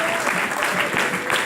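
A church congregation applauds steadily during a Spanish-language sermon at a baptism service, a dense, continuous wash of clapping from many hands that holds at an even level throughout.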